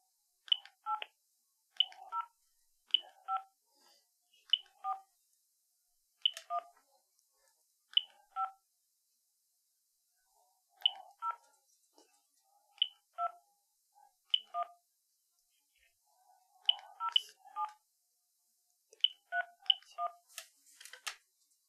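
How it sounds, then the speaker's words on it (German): Telephone keypad tones sound as a number is entered, a series of crisp, clear beeps spaced unevenly in short bursts with quiet gaps between, nothing else audible. "Bitte nennen Sie mir die Nummer noch einmal oder geben Sie die Nummer über die Tastatur Ihres Telefons ein."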